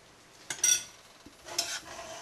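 A spoon scrapes and stirs through a simmering pot of spices, a few soft strokes with brief clinks against the pot, close and fairly quiet.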